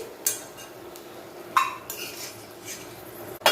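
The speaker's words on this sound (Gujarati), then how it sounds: "કાજુ બદામ આપણે એકદમ સારી રીતે સંતળાઈ ગયા છે હવે આપણે તેને કાઢી લઈશું" Roasted cashews and almonds are scooped out of a kadai with a metal spoon for sooji shiro, producing a few sharp clinks and scrapes against the pan amid quiet rustling, close by.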